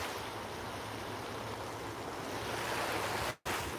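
Steady, loud rush of a waterfall and fast river run fills the whole stretch as a dense, unbroken wash, with a brief dropout near the end and no talking.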